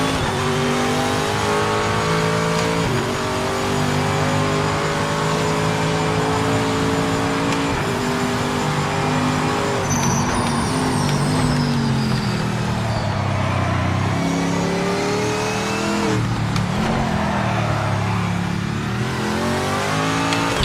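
Corvette race car in the racing game PMR, its engine droning loud and close throughout, revving up and down through gear changes with a brief tire squeal, no talking.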